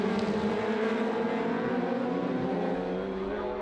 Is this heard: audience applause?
no